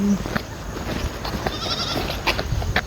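A goat bleats on a walk home at night, a few short calls standing out against steady broadband outdoor noise.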